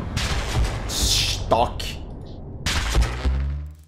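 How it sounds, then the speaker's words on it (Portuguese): A distant explosion rumbles in the video game Hell Is Others, a low muffled boom with bursts of noise, heard under a man's speech. "Você também ouviu uma explosão distante?"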